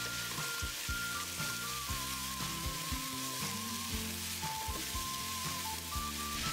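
Scallion pieces, sliced ginger, garlic, chili, cinnamon, star anise and bay leaves stir-fry in oil with a splash of baijiu for braised pork ribs, making a loud, continuous sizzle with repeated spatula scrapes against the pan.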